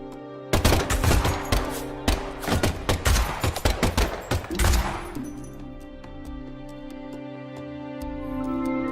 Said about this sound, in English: And the last gunshot we heard sounded ominous, Zack.